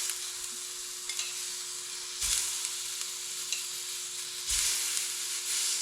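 Food frying in an Elite Gourmet 16 x 13 inch electric skillet, a steady hissing sizzle that surges twice as more pieces hit the hot surface, close and fairly quiet, with no voices.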